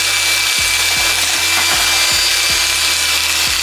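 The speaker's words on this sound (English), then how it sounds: "So it kind of punches out a hole as it goes along when I do some nibbling." A Makita DJN161 cordless nibbler cuts through metal mesh, giving a loud, steady rasping buzz from rapid punching with a regular repeating pattern of lower thuds about every half second, close up and with no voices.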